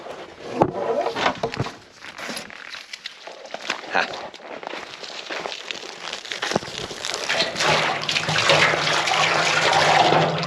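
Water pours into a tub for off-grid storage, filled partly with collected rainwater, building to a steady, louder rushing stream near the end, with a few faint knocks and movements earlier on.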